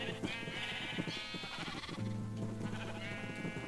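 Several sheep bleat in the video game Minecraft, overlapping wavering cries repeating steadily at moderate volume, with a longer drawn-out bleat near the end.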